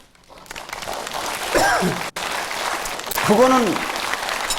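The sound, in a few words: audience clapping during a Buddhist dharma talk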